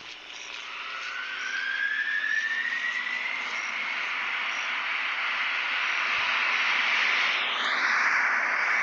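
A propeller plane engine in the game SimCity BuildIt drones steadily and rises in pitch as it takes off and climbs away, a synthetic game-like hum with no voices.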